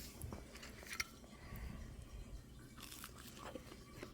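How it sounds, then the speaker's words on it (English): Crunchy biting and chewing into a homemade quesadilla with crispy cheese, close to the mic, with a few crisp crackles among softer chewing and faint background noise. "now, let's try a bite"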